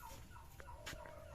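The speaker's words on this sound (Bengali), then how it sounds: "এই দেখো মুরগি রয়েছে দাদাদের" Chickens kept at a forest eco resort near Jaldapara cluck and call faintly in brief short bursts over a quiet background, with no talking.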